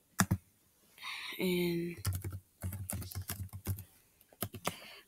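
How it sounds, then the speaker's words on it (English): Keyboard typing on a Chromebook or PC while entering Roblox login details, a run of quick clustered keystroke bursts close up, with short bits of speech in between. "you type in all your stuff, like, type in all of your, like, Roblox information in"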